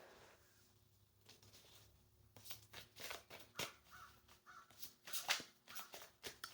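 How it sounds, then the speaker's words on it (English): Crows calling outside a window, a string of short, harsh caws coming in bursts over quiet room tone, moderately distant and a little faint. "Confirmation with the crows outside my window."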